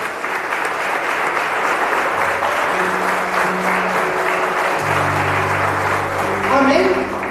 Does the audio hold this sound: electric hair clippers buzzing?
no